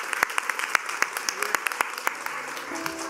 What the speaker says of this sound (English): Let's give a big round of applause to Steve Rowley and Scott Nevins.